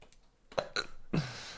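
Hiccups after eating hot wings, a few short, faint, sharp gulps and catches spaced irregularly, close to the microphone with no speech.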